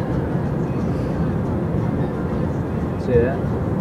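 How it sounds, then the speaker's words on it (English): A Union Pacific freight locomotive rumbles by as a steady, loud, low drone with a continuous mechanical roar and a brief faint squeal near the end. "Yes, one Union Pacific engine."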